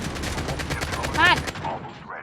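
Rapid gunfire bursts in a battle-royale style shooter game, loud and continuous, crackling over a dense mix with excited players talking over it.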